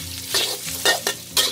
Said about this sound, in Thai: เราจะค่อยๆเกลียวให้น้ำมันหมูของเราออกมานะคะ ขั้นตอนนี้นะคะให้เพื่อนๆหมั่นคนค่ะ